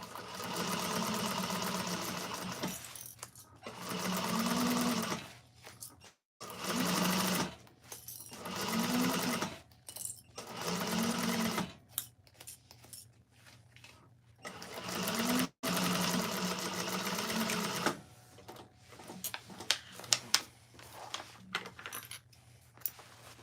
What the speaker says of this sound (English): I'm going to sew that with a 1/2 inch seam allowance along that line that we just drew again